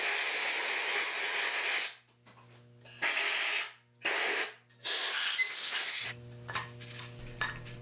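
Compressed air blasting through a hose to clean a 1968 Triumph Spitfire MK3 cylinder head, several loud hissing bursts with short gaps and a compressor hum between them.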